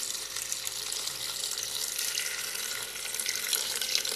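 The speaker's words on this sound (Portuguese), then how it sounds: "Agora vai água geladinha," Ice-cold water pours steadily into a blender jar holding lemon balm and pineapple slices for juice, a continuous close splashing stream lasting the whole moment with no voices.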